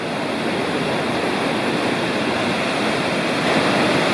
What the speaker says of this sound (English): Some really great rapids up above.